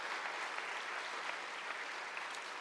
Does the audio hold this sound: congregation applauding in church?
yes